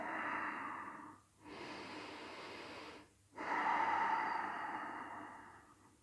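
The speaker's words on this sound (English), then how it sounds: "Just keep breathing here." Deep, slow breaths come from someone holding a yoga pose, long airy exhalations close to the microphone separated by two brief quiet gaps, with no talking.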